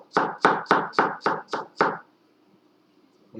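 A knife chops an onion on a cutting board during a basic cooking class, seven firm evenly spaced cuts in quick rhythm, close and clear, then quiet.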